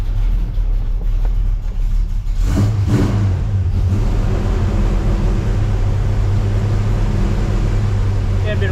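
A car engine idles steadily close by, with a brief rise in revs near the start before it settles back into an even low running drone.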